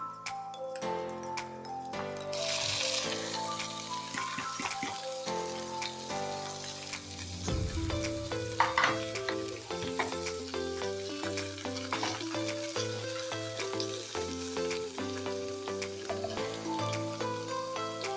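Cleaned, cut chicken liver fries in a hot pan, giving a constant close sizzle with occasional stirring clatter, mixed under steady background music.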